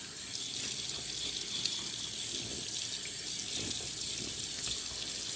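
A bathroom tap runs steadily to wet a shaving brush, a continuous hissing stream of water close by, with no voices.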